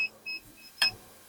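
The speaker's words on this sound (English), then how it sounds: "There's our beep." A five-station mug press timer gives a few short, thin electronic beeps, fairly quiet and closely spaced, ending in one brief louder chirp.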